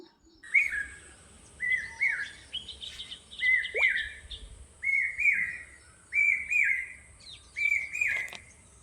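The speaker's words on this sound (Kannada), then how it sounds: "ಎಷ್ಟು ಚಂದ ಪಕ್ಷಿ ಸೌಂಡ್ ಬರ್ಲಿಕ್ಕತ್ತಿತ್ತಲ್ರಿ ಅದಕ್ಕೆ ರೆಕಾರ್ಡ್ ಮಾಡಿಕೊಂಡೆ" A bird repeats a short, bright chirping phrase about eight times at an even pace, clear and fairly close against a quiet background, in the morning at a resort.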